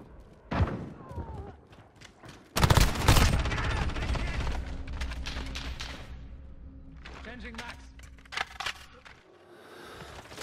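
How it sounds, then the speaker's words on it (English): Booming impacts and bursts of gunfire from a cruise missile strike in a Call of Duty: Modern Warfare team deathmatch, with loud thuds, a sustained rumbling tail and rapid shots toward the end. "Allied cruise missile launched."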